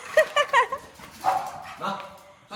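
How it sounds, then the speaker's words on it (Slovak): Several dogs barking and yipping in quick, sharp bursts nearby, a few clustered barks followed by scattered whimpering yelps indoors. "Psíky zavádzajú."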